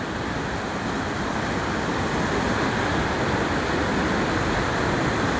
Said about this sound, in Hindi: ऐसे झरने मैंने जिंदगी में पहली बार देखा है।